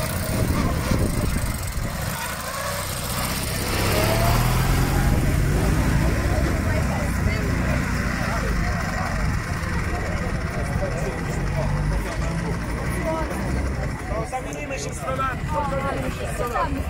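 A vintage motorcycle idles with a low, steady rumble at the start of a historic motorcycle rally in Pisz, Poland, with a crowd chattering close by and a voice talking over it throughout.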